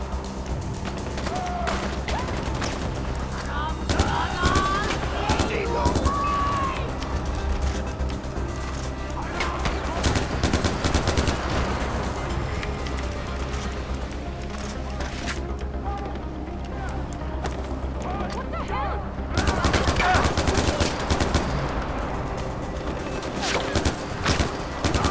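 Rapid gunfire in the video game Far Cry 4, dense bursts of shots and crashing impacts running nearly throughout, loud and close, with a player talking over the action.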